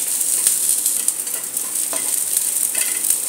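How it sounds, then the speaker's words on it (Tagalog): Garlic sautés in hot cooking oil for squid adobo, giving a bright, steady sizzle with soft scraping stirs and small pops, close and without talk. "So nagpainit na ako ng mantika. Una, maglagay muna tayo ng bawang. Gisa natin hanggang sa"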